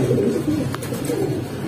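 Several pairs of Giribaz and Pangkhi pigeons coo in cages at a seller's stall, a close, steady low burbling chorus with a brief sharper call partway through.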